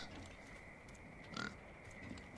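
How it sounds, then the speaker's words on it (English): A brief pig grunt in the video game Far Cry 5 rises once from a quiet, steady background hum, short and fairly faint. "We've got some pigs."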